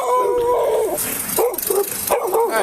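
Several dogs whimper and yip in high, wavering whines, three pitched bursts close by with rough noise between them.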